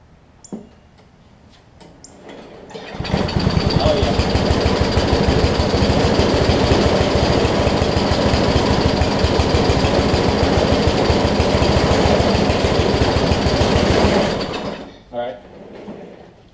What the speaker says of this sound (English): See if it'll crank this time.